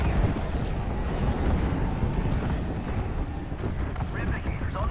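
Airstrike explosions in the Apex Legends battle royale game rumble in a dense, continuous barrage of booms and blasts over five seconds, loud and close, with in-game voices talking over the din.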